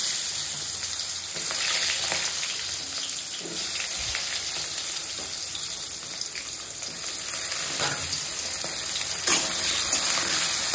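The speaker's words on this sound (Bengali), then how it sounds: "এখন ভেজে দেবো কলাটা, একটু লবণ হলুদ দিয়ে একটু ভেজে দেবো।" Sliced green banana frying in a pan with salt and turmeric, giving a steady, soft sizzle with occasional crackles and light stirring, no talk.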